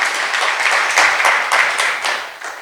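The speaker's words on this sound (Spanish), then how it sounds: "Denle un fuerte aplauso ahí al Señor," A church congregation claps loudly and steadily during a worship service, with rhythmic bursts of applause from a full room continuing throughout.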